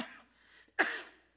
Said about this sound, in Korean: 제가 알러지 기침 때문에